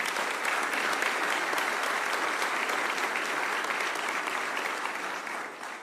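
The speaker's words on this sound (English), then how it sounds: "How about a round of applause for LED's team?" A round of applause at Louisiana Governor Jeff Landry's economic and security project event in Ruston: a large audience claps loudly and evenly for several seconds, then the sound tapers off slightly at the end.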